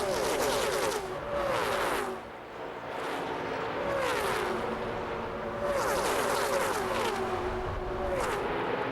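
ARCA race cars at Daytona International Speedway roar past in loud repeated waves, engines sweeping up and down in pitch as each pack passes, with brief dips between groups.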